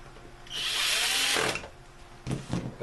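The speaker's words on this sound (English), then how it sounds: "I'll use my drill on this one." A power drill whirs for about a second as it drives a screw while reassembling a Bissell ProHeat carpet cleaner's water pump, winding down, followed by a couple of clunks and handling noises.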